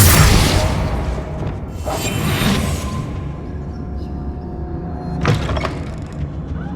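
A burst of magical energy from the Defendo spell in a Harry Potter video game, a loud whooshing boom that fades into a lingering rumbling ambience, with a second softer swoosh later.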